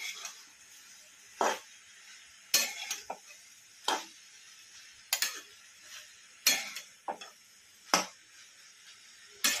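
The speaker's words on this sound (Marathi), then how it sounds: "नमक टाकणार आहोत चवीनुसार आणि थोडासा शेंगदाण्याचा कूट, ते छान असं मिक्स करून घेणार आहोत" A spoon stirring a Bhogi vegetable dish with salt and crushed peanuts in a pan: about ten distinct scraping clinks at a roughly even pace, clear and close, with quiet between strokes.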